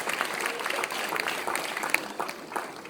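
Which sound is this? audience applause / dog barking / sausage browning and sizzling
audience applause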